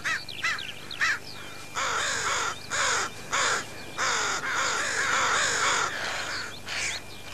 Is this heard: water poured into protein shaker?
no